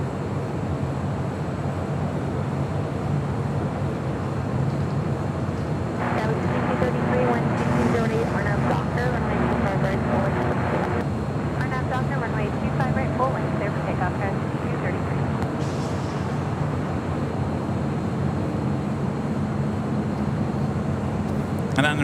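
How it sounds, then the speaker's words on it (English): An American Airlines Boeing 787-8 Dreamliner bound for Miami rumbles at LAX, its jet engine roar swelling and fading in the distance beneath ongoing commentary. "This flight heading to Miami, American Airlines flight 2883 and the 787-8 Dreamliner."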